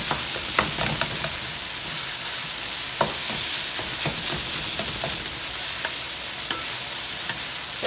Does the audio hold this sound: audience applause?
no